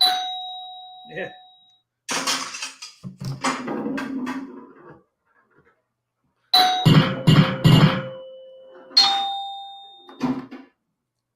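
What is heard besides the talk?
pinball table chimes and bells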